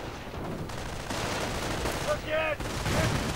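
Dense rattling gunfire from grenadiers in a WWII strategy video game keeps up under a busy battlefield din, with bursts and a brief whistling shot mid-way, no talk audible.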